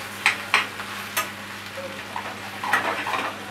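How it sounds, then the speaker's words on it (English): Lamb, garlic and hard herbs frying in a pan get a quick stir, a few distinct scrapes and clinks of the spoon over a gentle background sizzle, heard close with no voices. "Just give that a little stir, make sure nothing's catching."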